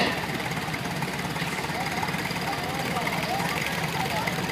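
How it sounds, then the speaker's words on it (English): A 1951 Farmall M tractor driving in a parade, its engine giving a steady, continuous rumbling drone beneath an announcer's voice throughout. "Farmall M from 1951."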